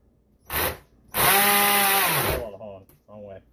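A power drill used on a Mercury outboard distributor spins up in two bursts, a short whir followed by a longer steady whine that winds down, close and loud, with people talking briefly afterward.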